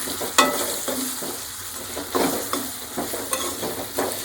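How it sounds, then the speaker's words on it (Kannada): Bisibele bath mixture being stirred in a pan, with a spoon scraping and clinking in several close, distinct strokes over a soft steady sizzle, no voices. "ಈಗ ಚೆನ್ನಾಗಿ ಮಿಕ್ಸ್ ಮಾಡ್ಕೋಬೇಕು"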